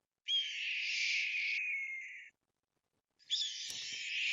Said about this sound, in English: the correct song for a red-tailed hawk